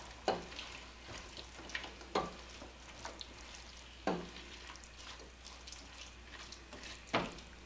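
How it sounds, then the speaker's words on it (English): Onions saute with browning hamburger meat for chili in a greasy pan, giving a steady close sizzle broken by periodic scraping stirs of a utensil. "I'm going to go ahead and add the onions into it and let them go ahead and be sauteing while the hamburger meat finishes cooking"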